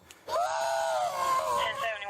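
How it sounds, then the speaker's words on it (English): A person screams in a single drawn-out, high-pitched cry that lasts nearly two seconds, loud and close, rising abruptly from near silence. "you can hear somebody hitting someone and they're screaming"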